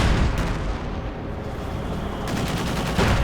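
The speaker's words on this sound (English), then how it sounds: "Go another strafing run." Strafing-run explosions and gunfire in Company of Heroes 2, a dense, continuous roar of blasts and rapid firing that stays loud throughout, with no pauses between impacts.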